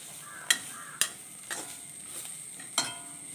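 Spices and grated coconut roast in a dry pan with a faint sizzle, punctuated by a few sharp scraping clicks of a spoon stirring at uneven intervals.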